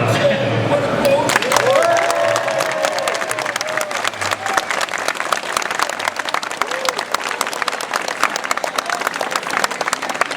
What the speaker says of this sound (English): Applause, please, in 3, 2, 1, applause.